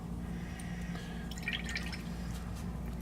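Water drips softly during miniature paint thinning for painting Warhammer 40K faces, a few faint, quick droplet sounds clustered near the middle over a steady low hum.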